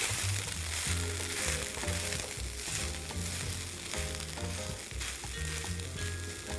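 Vegan ground round sizzling and frying steadily in a hot pan over medium heat, a continuous loud crackle with occasional stirring and no voices.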